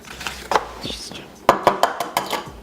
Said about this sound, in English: You have to mix the cheese and the egg together.